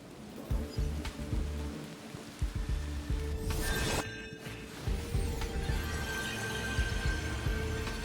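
Rain falling in the video game Honkai: Star Rail, a steady patter with scattered drop impacts and crackles that stays fairly loud and close throughout, with no voices.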